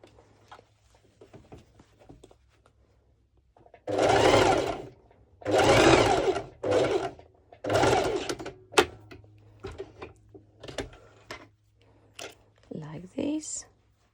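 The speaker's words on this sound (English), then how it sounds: "with my normal sew machine like this." A domestic sewing machine stitches stretch leggings fabric in several loud, steady runs of a few seconds each, separated by pauses with lighter handling clicks and soft taps.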